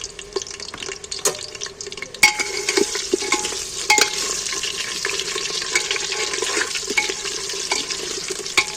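Potatoes stirred and frying in a pan, a steady sizzle broken by repeated sharp clicks and scrapes of a utensil against the pan, close and fairly loud.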